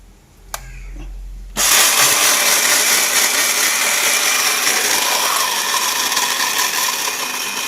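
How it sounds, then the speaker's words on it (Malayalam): A Black & Decker electric coffee grinder whirs into action on pepper after a brief click, then runs loud and steady with a harsh grinding buzz for several seconds. "ഇത് കോഫി ബീൻസ് ഒക്കെ പൊടിക്കുന്ന ഇതാണ് കേട്ടോ. ബ്ലാക്ക് ഡക്കറിൻ്റെ ആണേ."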